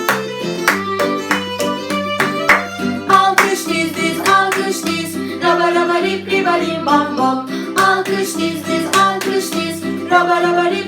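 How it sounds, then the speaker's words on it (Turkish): Children clap their hands in rhythmic bursts along with a bouncy, tuneful children's song, sharp claps repeating throughout over the steady music. "Alkış aşağıya alkış yukarıya"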